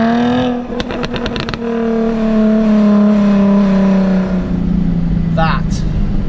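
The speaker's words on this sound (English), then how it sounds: "Waking up southwest London this morning with the notes of the F-type exhaust symphony" Jaguar F-Type on its standard exhaust booms through a tunnel, a loud sustained engine drone with strong harmonics, a burst of sharp crackles early on, then a falling pitch as the car eases off, with no talk.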